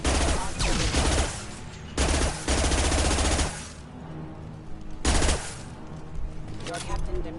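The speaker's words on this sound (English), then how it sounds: "He's gunning down his own crew to keep control?" Rapid bursts of automatic gunfire in a video game, a captain gunning down his own crew; loud clattering volleys broken by short pauses, with game voices in the background.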